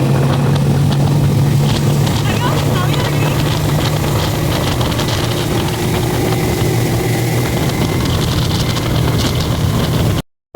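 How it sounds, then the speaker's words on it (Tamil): A fast speedboat on a river in Kuala Selangor, Malaysia, roars with a loud, continuous engine drone and hull-on-water rush that stays strong for about ten seconds before cutting off abruptly. "போட் வந்து பயங்கர ஃபாஸ்ட்டாக தான் வந்து போயிட்டுருக்கு."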